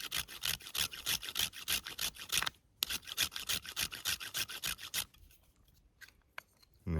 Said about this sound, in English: shave some fat wood into my little tinder box